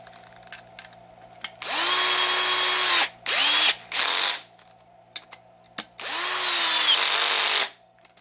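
A power drill drives bolts into a bulkhead of an HPI Baja SS RC car in several loud whirring bursts of one to two seconds each, separated by quiet gaps and small clicks.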